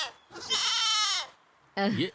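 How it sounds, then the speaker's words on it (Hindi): Goats bleat on a farm in two loud, wavering calls, one long and one shorter, close by with a pause between them. "हमें हमारी बकरियों पर भी नाज है।"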